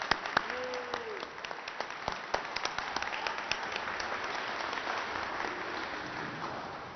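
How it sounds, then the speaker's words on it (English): Audience applause at the grand opening of Monarch Academy school in Annapolis, a steady patter of many hands clapping at moderate distance, continuing for several seconds with a faint voice underneath. "I think that deserves a round of applause"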